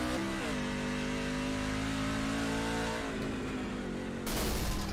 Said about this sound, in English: Oh, his engine's gone.